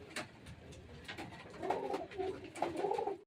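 A pigeon at a home loft coos softly with repeated low, rolling calls near the end, over faint background rustle, with no speech.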